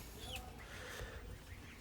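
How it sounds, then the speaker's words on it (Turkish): A rooster and hens cluck in a coop built for goslings and chicks, with soft murmuring clucks and a brief higher squawk over a steady low farmyard hum. "Bu da horoz."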